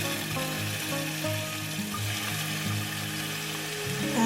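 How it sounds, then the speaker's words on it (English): Tomato frying in a pan gives a steady, close sizzle that keeps going without a break, with no talking over it. "adding the tomato to the pan."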